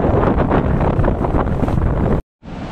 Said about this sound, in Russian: Работает южный ветер и достаточно сильная волна, сильный прибой.